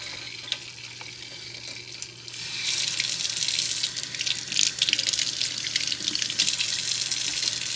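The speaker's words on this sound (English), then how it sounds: "Now let's go turn on some hot water and see what happens." Hot water running from a household tap after a Stiebel Eltron Tempra 29 tankless heater replaced a Rheem RTE-27, a steady hiss that starts weak and swells loud partway through.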